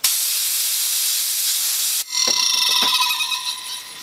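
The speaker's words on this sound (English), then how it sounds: "Heads sound like they're scraping on the disc." A hard disk drive, rigged as a Tesla turbine with a voice coil under test, gives off a loud steady hiss that cuts to a scratchy, ticking scrape as its heads grind on the platter, close and harsh.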